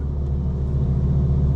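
2025 BMW M4 Competition idling with its exhaust valves fully closed, heard from inside with windows up: a steady, muffled low rumble with an even pulsing note.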